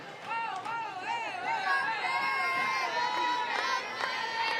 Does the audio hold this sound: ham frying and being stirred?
no